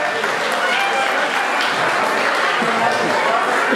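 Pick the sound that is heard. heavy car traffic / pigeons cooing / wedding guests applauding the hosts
wedding guests applauding the hosts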